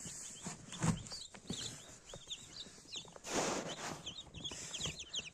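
Crested chicks cheep in a coop with high, rapid peeps, some nearer and some softer. Low clucks and rustling run beneath them.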